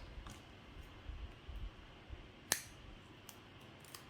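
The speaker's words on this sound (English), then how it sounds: "I need some scissors" A single sharp snip of scissors cuts through a quiet room, a brief crisp click standing out against faint background hiss.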